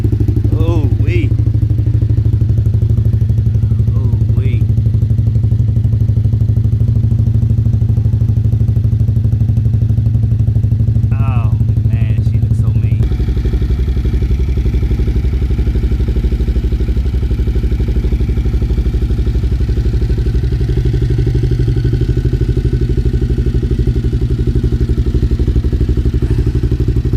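Suzuki TL1000R motorcycle cold starting, a loud low engine rumble that runs steadily throughout and jumps heavier partway in, with a few brief voice sounds over it.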